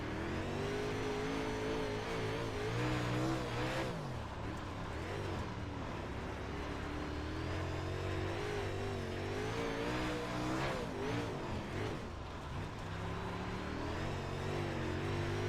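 UMP Modified dirt race car in iRacing on a dirt oval, engine roaring steadily and close throughout, with pitch rising and falling as it accelerates and lifts through the turns.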